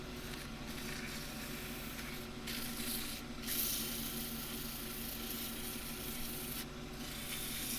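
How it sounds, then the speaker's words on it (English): Steady, soft hiss of sandpaper with oil rubbing a knotty Himalayan cedar bowl, continuous and close, with a low hum underneath and a few brief gaps in the scratching. "Just be sanding with that, and it just thins down the oils enough."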